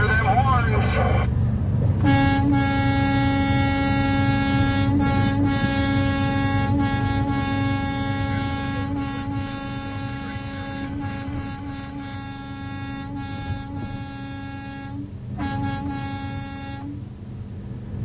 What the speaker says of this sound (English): Let's hear them horns.